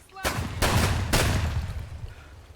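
.50 BMG rifle fire in a video game, three loud, heavy booming shots spaced about half a second apart, each with a long rumbling tail that overlaps the next.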